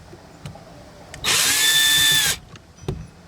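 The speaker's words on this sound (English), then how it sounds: "I'm about to use the drill for a little bit" A power drill spins up and runs at a steady high whine for about a second, close by, between quiet handling noises, while front speakers are removed and installed on an 8th-generation Honda Accord.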